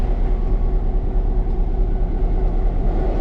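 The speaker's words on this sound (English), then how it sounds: "Look how smooth this dude idles." A museum railway locomotive idles up close with a deep, steady, smooth diesel rumble that holds an even throb throughout.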